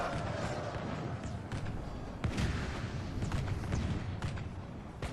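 Empire gunners fire on melee units in a Medieval 2 Call of Warhammer battle: a dense, continuous din of scattered gunshots and booming volleys with sharp bursts throughout.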